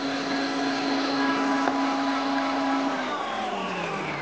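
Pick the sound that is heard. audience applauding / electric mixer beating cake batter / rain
electric mixer beating cake batter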